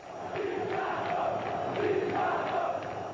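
Vasco football supporters at a 2002 Brazilian league match fill the stadium with a continuous roar of chanting and shouting, loud and unbroken throughout.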